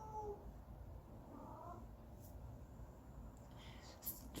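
An indoor house cat meows briefly and faintly near the start, a short wavering cry followed by quiet room noise and a few small knocks.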